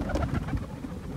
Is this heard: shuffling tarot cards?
no